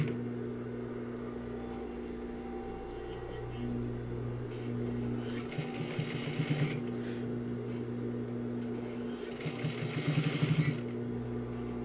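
A sewing machine stitching the collar stand seam of a shirt, two short bursts of fairly quiet rapid stitching over steady background hum, with no talking during them.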